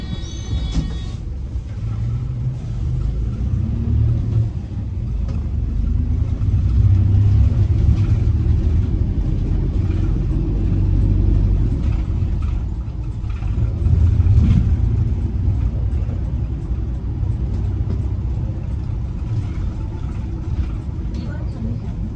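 Inside a city bus moving through Seoul, a steady low engine rumble and road noise hold throughout, swelling slightly as the bus accelerates, with faint voices of people talking in the background.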